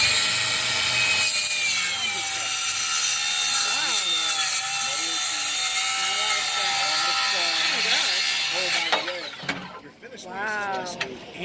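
Cordless circular saw cutting through thick steel, a loud, continuous high-pitched grinding whine that holds for about nine seconds before the cut ends and the tone breaks up.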